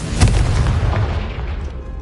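Confringo fire-blast spell in the Hogwarts Legacy video game: one deep, booming explosion with a heavy low thump that fades over about two seconds, with no talk.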